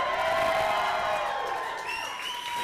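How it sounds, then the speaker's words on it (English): A lively audience cheers and whoops on cue at a live event, a sustained wash of crowd noise with whistle-like tones rising through it. "If you see something you like, cheer."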